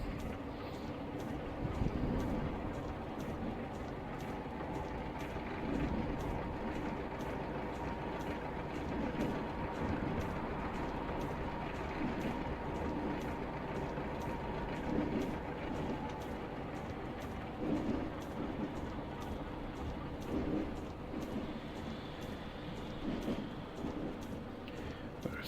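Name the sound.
Class 33 diesel train running, from a video game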